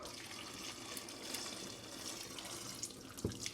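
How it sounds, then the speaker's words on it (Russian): Water pours steadily in a continuous broadband splash, like a pot being drained into a sink, with a small clunk near the end. "Отключаем и сливаем воду"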